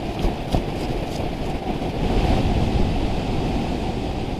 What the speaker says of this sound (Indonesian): dari sini mulai terdengar lirih suara jatuhnya air terjun